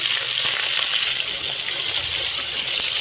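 Onion fries in oil in a pressure cooker, giving a dense, close, continuous sizzle with faint crackles that stays loud and steady throughout, with no voices.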